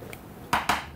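Knife chopping cooked chicken on a cutting board for a pasta chicken salad: two sharp, close chops about a sixth of a second apart, with no one talking.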